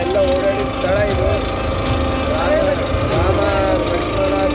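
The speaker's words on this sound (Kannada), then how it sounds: "ಅಲ್ಲಿ ಬೋಟಲ್ಲಿ ಕೂತು ಸರಿಯು ನದಿ, ರಾಮ ಎಲ್ಲ ಓಡಾಡಿದ ಸ್ಥಳ ಇದು." A boat engine drones steadily while riding on the Sarayu river in Ayodhya, a constant close mechanical hum running beneath people talking throughout.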